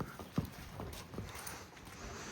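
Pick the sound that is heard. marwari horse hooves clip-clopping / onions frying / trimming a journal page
marwari horse hooves clip-clopping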